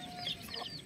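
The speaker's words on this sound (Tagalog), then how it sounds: "tingnan natin, may manok pa dito" Chickens in a rural province yard give faint, brief clucks, soft and a little distant over low background noise.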